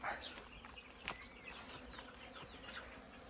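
Honeybees buzz faintly around an apiary, a thin continuous hum with a few passing drones, heard from a distance with some bird chirps in the background.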